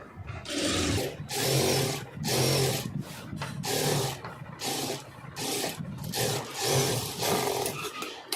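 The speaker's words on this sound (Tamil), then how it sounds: "அதே மாதிரி இதுலேயும் தையல் போட்டுக்குவோம்" A sewing machine stitches contrast piping onto a blouse in close, loud bursts of rapid mechanical whirring, each run a second or so long and separated by short pauses.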